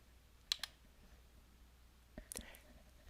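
Two quick, faint computer mouse clicks on an OK button in a quiet room, followed a moment later by a few more soft clicks.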